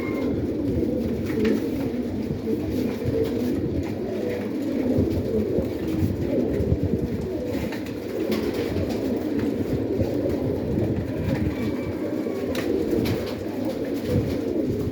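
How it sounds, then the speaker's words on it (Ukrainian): Pigeons coo all together inside a loft, a continuous, dense, low hum of overlapping calls that stays steady throughout. "Голубятня гуда. 10 хвилин як відкрив, а вже, вже стоїть гул."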